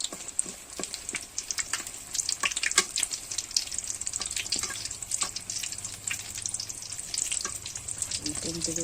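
Stuffed capsicum and potato pakoda frying over a low flame, a dense, even crackle of bubbling oil with scattered sharper pops, close and continuous.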